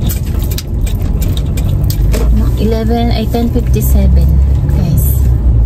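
Car driving with a low, steady road rumble and engine hum beneath talk inside the cabin, continuous throughout.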